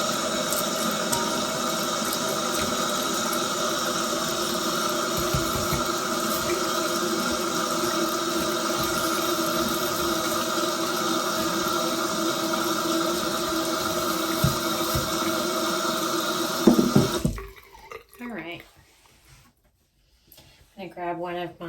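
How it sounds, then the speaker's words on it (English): Running water rinses out a freshly cleaned kitchen sink after scrubbing with homemade citrus vinegar cleaner, a loud steady rush that cuts off near the end, leaving quieter handling sounds. "Okay, let's give it a rinse."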